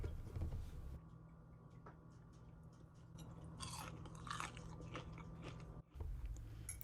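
Crunchy fried okra being chewed up close, a run of crisp bites and crunches repeating through a quiet room with no talk.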